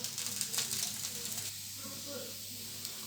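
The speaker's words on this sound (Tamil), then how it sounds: "நான் நெய் கொஞ்சம் ஊற்றிட்டு இது வேகுது" Rava dosa sizzling in ghee on a hot pan, a steady close hiss that is louder at first and then settles into a softer fry, with a voice speaking over it.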